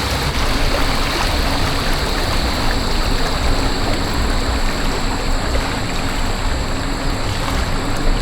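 A river stream rushes in a steady, loud, broadband roar throughout, close by and continuous with no break, with no talking over it.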